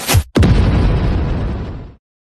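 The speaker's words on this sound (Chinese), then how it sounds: "将军，好像是离国人在崖壁上放烟花。" Fireworks or explosions on a cliff face: a sharp blast followed after a brief gap by a second heavy boom that rumbles on for about a second and a half before cutting off, loud and close.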